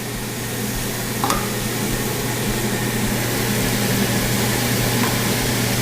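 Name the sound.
steaks sizzling on hot grill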